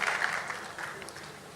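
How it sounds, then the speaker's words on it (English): Brief, moderately quiet audience applause at a money-focused conference, a scattered patter of clapping from the crowd that tapers off quickly. "You can clap, it's cool. Appreciate that."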